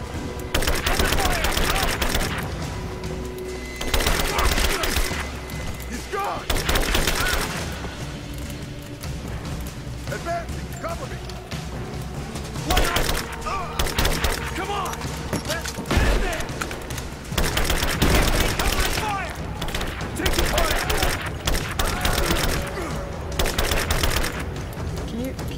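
Dense, sustained gunfire in Rise of the Tomb Raider, with repeated bursts and heavy thuds running almost continuously through a chaotic firefight, and a voice talking over the shooting in places.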